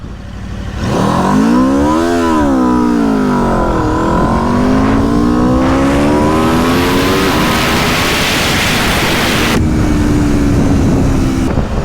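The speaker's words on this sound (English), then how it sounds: "Stock exhaust on this thing sounds magnificent." A 2022 Aprilia RSV4 sport motorcycle with stock exhaust revs hard several times, pitch climbing and dropping, then rises through a long wailing acceleration, loud and close with wind noise.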